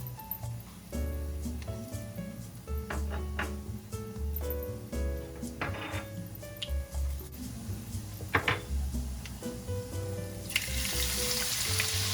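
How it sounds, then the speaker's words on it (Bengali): Whole spices frying in hot mustard oil for a meat bhuna, a steady close sizzle running throughout with scattered clinks and scraping from stirring, growing brighter and hissier near the end. "পেঁয়াজ আর টমেটো বাদে বাকি সবগুলো মশলা আমি তেলে দিয়ে দিয়েছি এবং এটাকে একটু ভেজে নিব"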